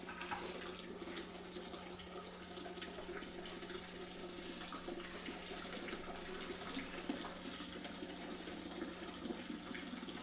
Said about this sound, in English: I'm going to basically wash the ice